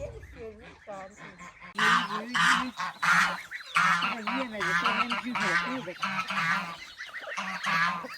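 Geese on a farm honk loudly and repeatedly in a noisy, overlapping chorus, with quieter calls at the start and some talk mixed in.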